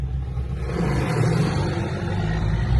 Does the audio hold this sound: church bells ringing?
no